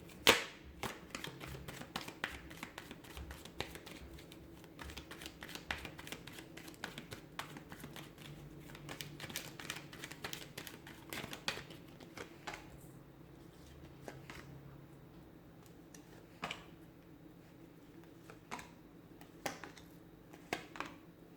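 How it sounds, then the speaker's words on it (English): Soft, rapid crisp clicks and riffling of tarot cards being shuffled, continuing steadily at low volume with no voices. "give the cards a shuffle, and let's begin."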